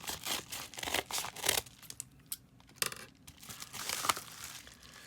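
Cutting and tearing open a mailed package of sports cards, close crinkling plastic and paper rips in short bursts with brief pauses between, quiet and near.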